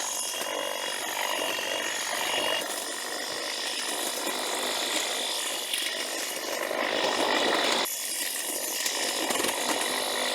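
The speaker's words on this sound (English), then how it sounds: "we have cut through the woody material really, really well" A Milwaukee M18 FHET cordless hedge trimmer cuts into a woody hedge with a continuous, buzzing chatter of blades. It runs steadily at moderate distance, with a brief dip near the end as the cut pauses.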